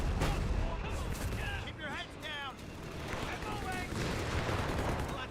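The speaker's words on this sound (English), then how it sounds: "And the barrage going in." An artillery barrage in the video game Company of Heroes, with dense rumbling explosions and gunfire forming a loud, continuous battle din, with someone talking over it and radio-like chirps in the mix.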